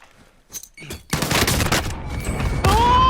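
In a video game, a sharp grenade blast breaks into loud, sustained rapid gunfire after a few scattered pops, with a rising tone near the end. No voices are heard.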